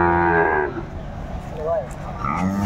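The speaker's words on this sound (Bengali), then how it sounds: "আমরা দেখছি সামনে বেশ কিছু গরু বাঁধা রয়েছে" Cattle moo at an outdoor livestock market where bulls are tied in a row, with a long, loud bellow at the start and fainter lowing afterward amid background crowd noise and voices.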